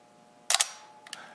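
A Nikon FE film SLR fires its shutter at 1/15 second: a sharp mechanical double clack, with the two curtain strikes close together, and then a fainter second rattle half a second later, all close up in a quiet room.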